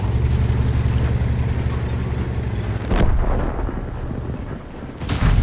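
The main gun of an FV4005 tank fires in World of Tanks with one heavy booming report, over a constant low engine rumble, and a second sharp blast comes just before the end.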